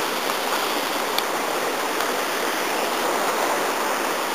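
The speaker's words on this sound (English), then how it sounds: "Below me is the rest of this waterfall," A mountain waterfall roars in steep, forested terrain, a loud, steady, unbroken rush of falling water heard up close with no voices.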